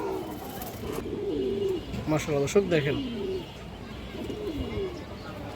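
A large pair of Indian chini kaldam pigeons coo in warbling rolls close by, the calls loudest midway and partly overlapping someone talking.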